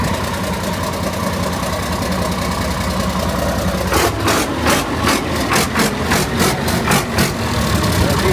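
Massey Ferguson MF 1200 tractor engine running, a loud steady low drone that turns into a rhythmic pulsing chug about halfway through, close by.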